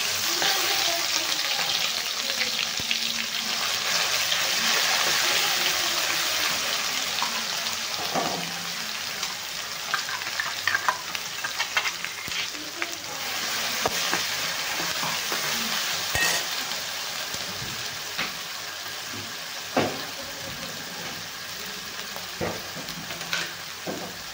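Whole spices and masala for Punjabi chole fry in oil in a pan, a continuous hissing sizzle that gradually eases, broken by intermittent scrapes and taps of a spoon stirring, with no talking.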